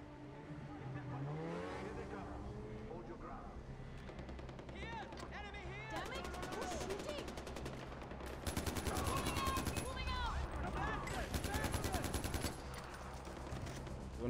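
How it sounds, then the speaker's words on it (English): Far Cry 4 firefight: rapid automatic gunfire rattles in dense bursts under a steady background of game noise and engine hum, while a voice talks over the action. "I'm gonna shoot these guys so I can run and get ammo."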